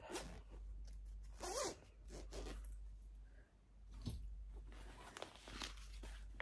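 Zipper on a knitting project bag drawn open or closed in several quick rasping pulls, close up, with soft rustling of the bag and yarn between strokes and no talk.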